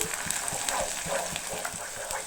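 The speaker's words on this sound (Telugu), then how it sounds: "ఈ మొత్తం కూడా కొంచెం ఫ్రై అవనిద్దాము." Ginger garlic paste frying in a pan as part of an Andhra-style mutton keema fry, a close, steady sizzle with faint rhythmic stirring taps against the pan.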